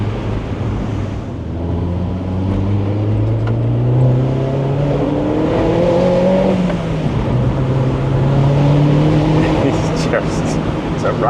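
Mini Roadster JCW engine accelerating, its drone rising in pitch through successive gears with a shift in between, steady and close under wind roar, while someone talks over it.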